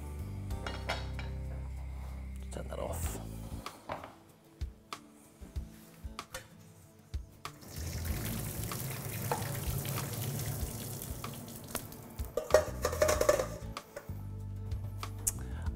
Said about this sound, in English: So time to drain off the potatoes.